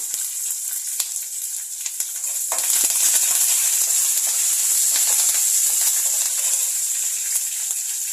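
Green chili, curry leaves and dried red chilies sizzling loudly in hot oil for coconut rice, a close, steady crackling hiss that swells after a couple of seconds and carries on without talk.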